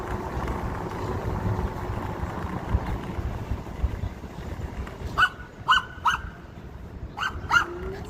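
Dogs on a city street bark several times in quick bursts near the end, loud and fairly close over steady traffic and wind noise from an e-bike ride.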